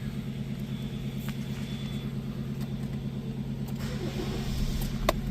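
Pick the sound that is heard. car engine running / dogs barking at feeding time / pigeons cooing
car engine running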